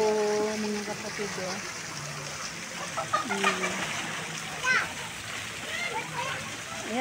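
Children splash and play in water at a swimming spot near the sea, a continuous wash of splashing and trickling under excited kids' voices and chatter.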